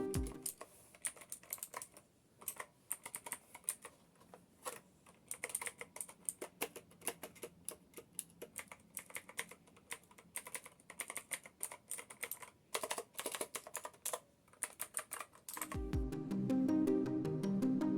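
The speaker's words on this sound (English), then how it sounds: "The keys do indeed appear to be Cherry MX Blue clones with tactile feel and audible click." Steady, rapid clicking keystrokes from a mechanical keyboard fitted with Cherry MX Blue clone tactile click switches, close and continuous, with a few brief pauses and a louder rustling handling noise near the end.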